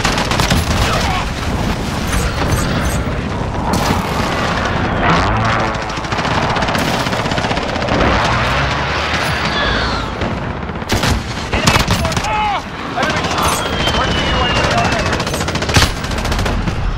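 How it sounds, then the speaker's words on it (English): Dense, continuous video-game battle din of rapid machine-gun bursts and gunfire volleys with heavy booms from a cruise missile strike, loud and sustained throughout with occasional sharper blasts. "Cruise missile away."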